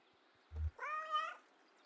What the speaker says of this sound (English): Affirmative meow.